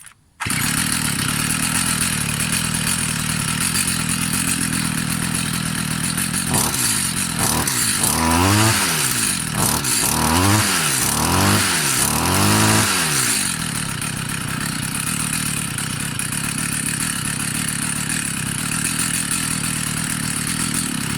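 A Stihl FS 55 string trimmer engine runs steadily outdoors after restoration, then revs up and down in a series of about six quick throttle blips before settling back to a loud, constant idle.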